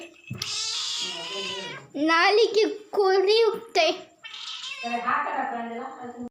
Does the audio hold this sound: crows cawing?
no